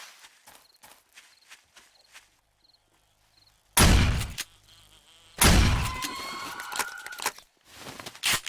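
A bee buzzes faintly outdoors in short intermittent bursts, interrupted by loud rustling or windy gusts, with no talking.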